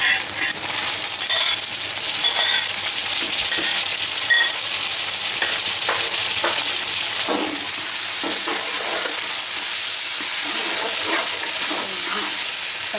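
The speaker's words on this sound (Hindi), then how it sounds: "टमाटर के घुलने तक इसको अच्छे से पका लें।" Tomatoes cook with ginger garlic paste in a pan and are stirred often. A broad, hissing sizzle runs throughout, with repeated scraping strokes close by.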